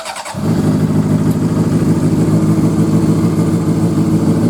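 A Honda CBR600RR motorcycle, crashed and drowned then rebuilt, fires up and settles into a loud, steady engine rumble close by, running continuously without people talking.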